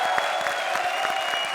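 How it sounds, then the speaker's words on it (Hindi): Audience applause on a Hindi comedy show stage, a steady wash of clapping with a few sharper claps standing out, fairly loud throughout. "जोरदार तालियां एक बार फिर हमारी सारी जोड़ियों के लिए"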